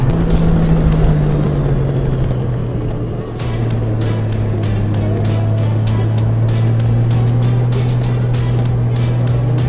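Motorcycle engine on a twisty California road during a group ride, a loud droning tone that dips and settles as the bike shifts, with wind rush and short clicks and no talk.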